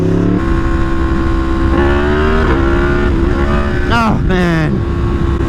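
A Yamaha MT10 motorcycle engine revs hard during a wheelie, loud and close, with steady rising engine harmonics before a quick blip and drop as the throttle is cut. Someone speaks briefly over it.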